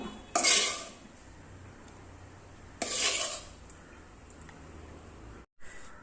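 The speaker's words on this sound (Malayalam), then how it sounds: "ആ ഒരു ജാറിലേക്ക് നമുക്കിതെല്ലാം ഒന്ന് ഇട്ട് കൊടുക്കാം" Cooled chutney ingredients are tipped into a mixer grinder jar: two sharp clattering bursts of solids hitting the jar a few seconds apart, each fading into quiet room tone.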